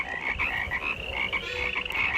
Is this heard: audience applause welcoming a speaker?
no